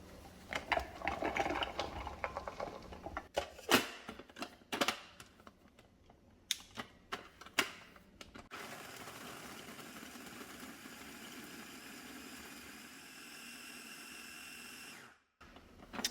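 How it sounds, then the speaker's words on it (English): A food processor pulses to grate about three ounces of Parmesan cheese, a run of short loud motor bursts with clattering chunks, followed by a longer steady whirring spin before it cuts off. "just pulse it through my food processor to grate it"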